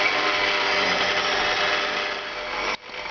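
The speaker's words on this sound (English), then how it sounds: "The stand mixer will begin to feel the amount of force that it takes in order to stir this around." A stand mixer motor works hard kneading naan dough, a loud steady broadband whir that holds for nearly three seconds, dips slightly as the load strains, then cuts sharply before resuming.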